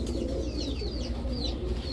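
Several Army breed pigeons give a soft, continuous cooing murmur nearby, overlaid by a handful of brief, bright chirps, with no voices.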